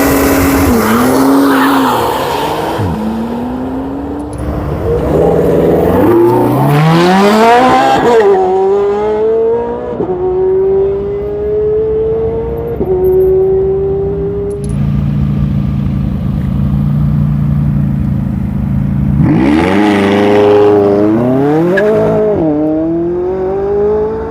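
Supercars at a car show launch hard one after another, engines rising in sweeping revs through the gears with tire squeal and skids, loud and close, several separate accelerations across the stretch without talk.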